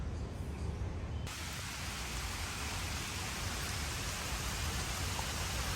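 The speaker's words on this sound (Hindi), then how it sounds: "बहुत जोरों की बारिश चालू हो गई।" Heavy rain pours down outdoors where people shelter under a tree, a dense, loud and unbroken roar of falling water with no voices heard.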